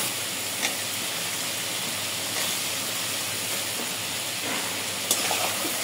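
Tomatoes go into a pan of fried spice paste made from ground coriander and dried chili for a mixed river-fish curry, giving a steady soft sizzle and hiss with a few faint clinks.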